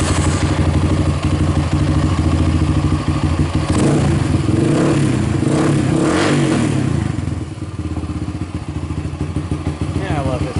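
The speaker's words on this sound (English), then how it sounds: "got it all put back together, and well, I gotta tighten up the couple bolts down there, but she runs nice." A Honda TRX300ex ATV engine runs steadily at a low idle, a loud close chugging rumble with a brief rev in the middle, while someone talks over it.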